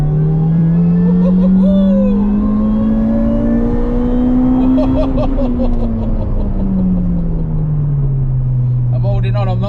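A supercharged Toyota Corolla T-Sport Compressor accelerates hard, its engine note climbing steadily in pitch to a peak, then easing off, loud and close from inside the car with a continuous rumbling drone.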